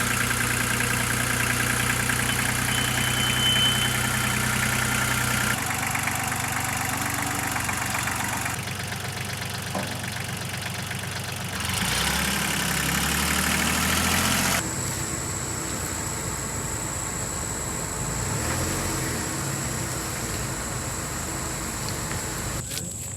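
A 1976 Porsche 914 engine runs at a steady, rough idle at moderate distance, its tone shifting abruptly a few times as the sound cuts between moments, with no speech heard.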